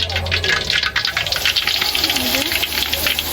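Blended garlic paste thinned with water is poured into a pan in a home kitchen, making a steady, close gushing splash that runs unbroken for a few seconds.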